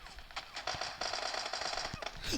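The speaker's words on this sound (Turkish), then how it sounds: "Lan kim sıkıyor?" Gunfire, someone shooting: a faint, distant burst of rapid, crackling shots in quick succession across a couple of seconds, with muffled voices mixed in.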